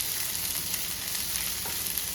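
Onions frying in a pan for a Kerala-style potato stir-fry (mezhukkupuratti), a steady, dense sizzle that holds at an even level throughout with no voices.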